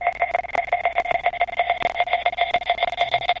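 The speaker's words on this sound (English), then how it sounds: "And then the second half of this pre-chorus, I have these square pops." Synthesized square-wave pops with a little noise, produced in a DAW for the second half of a pre-chorus, fire in a fast steady rhythmic pattern of short bright tonal blips, loud and dry throughout with no voice.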